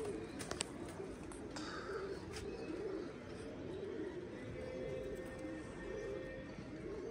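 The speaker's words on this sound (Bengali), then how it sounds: "পায়রা আমাদের উঠছে ভালোই" Pigeons in a pigeon-keeping loft coo softly and steadily through the clip, a low rolling murmur of several birds close by, with brief higher chirps and a clatter near the start.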